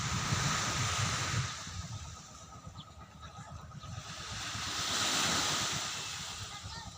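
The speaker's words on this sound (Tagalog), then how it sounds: "Malapit tayo sa dagat." Waves wash steadily onto an island shore, a broad rushing surf that swells louder at the start and again near the end, with light wind noise over the microphone and no voices.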